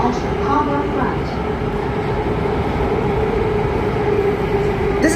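An SMRT Circle Line C830 metro train running between Botanic Gardens and HarbourFront, heard from inside as a loud, steady low rumble and hum with faint intermittent squeaks, and some talk over it.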